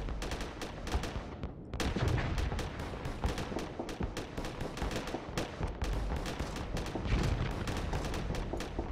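Ship guns firing in the space combat game Starsector, modded with Project Ironclads: a continuous run of rapid, sharp shots in a loud, sustained barrage with no talking.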